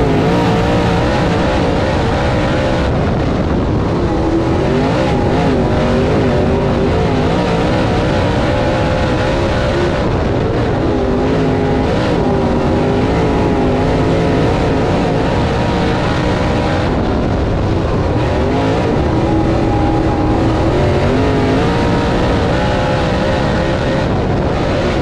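Race cars roar continuously around a dirt oval track in a heat race, a dense, loud wall of engine noise with shifting whine as cars pass and accelerate, sustained for the whole stretch.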